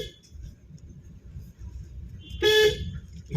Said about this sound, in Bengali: প্রত্যেকটা গলির আগে হর্ন দেবে এবং সাথে তাকাবে।